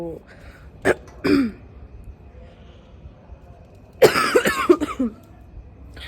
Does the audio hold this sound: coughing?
yes